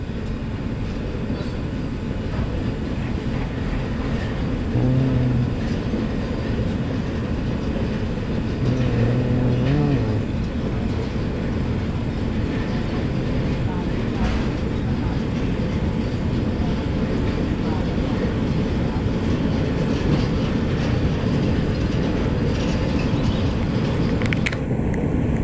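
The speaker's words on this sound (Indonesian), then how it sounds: "Lorinya dipindah ke jalur utama." Train wagons rumble and clatter steadily as a locomotive shunts lorry wagons onto the main line, a continuous heavy rolling noise with faint clicks, no talk over it.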